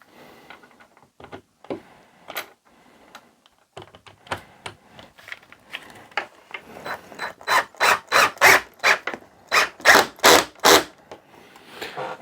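A power driver drives screws into a gun vise, starting as faint scattered scrapes and ticks, then building into a rapid series of loud, close, rasping bursts as the screw seats, with no speech.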